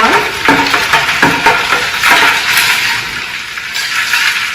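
Beer margarita punch with ice being stirred, a busy run of clinking and rattling ice and liquid sloshing against the container, steady and close with no talking.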